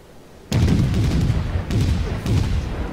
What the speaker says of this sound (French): Ah, jolie séquence de tir